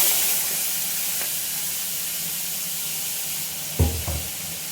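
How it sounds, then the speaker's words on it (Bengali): Hilsa fish head dropped into hot oil already tempered with cumin and fennel seeds, bursting into a sharp, close sizzle after a steady background hiss of frying, with no talking. "এবার এই মাছের মাথাটা আর তেলটা আমি দিয়ে দেব।"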